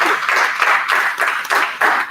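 Audience applause, a short burst of close, loud clapping with a lively uneven rhythm throughout.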